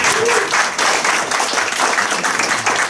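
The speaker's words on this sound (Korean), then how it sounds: "박수 한번 쳐주세요" Loud, dense audience applause at a Korean book launch, a steady wash of many hands clapping together close by that holds at full strength throughout.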